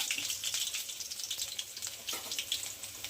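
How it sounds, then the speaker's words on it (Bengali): Chopped onion frying in hot oil crackles in a dense, continuous hiss with fine popping, steady and close throughout, with no speech. "তেলটা গরম হয়ে গিয়েছে তো আমি পেঁয়াজ কুচি দেবো তেলে"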